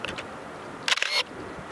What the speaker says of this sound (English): Oh, I hear that motor drive whine.